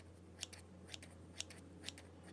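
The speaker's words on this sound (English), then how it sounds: "I'm just cutting up small pieces of it" Scissors snip through jelly slime four times at a steady pace, each cut a short, crisp, faint click close by over a low steady hum, with no talk.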